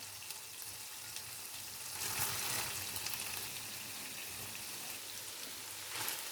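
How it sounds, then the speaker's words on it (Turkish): Tomato sauce with boiled meatballs simmers in a pot, a soft steady bubbling and light sizzle with a brief louder swell midway. "Sosum yeteri kadar kaynadı."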